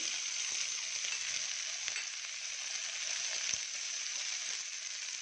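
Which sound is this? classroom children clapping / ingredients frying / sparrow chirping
ingredients frying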